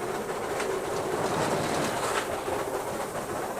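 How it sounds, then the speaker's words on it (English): Steam locomotive of the Southern Railway West Country class, Taw Valley, slipping its wheels, heard from the footplate: a steady, loud rumbling roar with rapid clattering, unbroken through the short stretch. "The brief rumbling noise you're about to hear on the footplate, which sounds like crossing a bridge, is in fact the engine slipping."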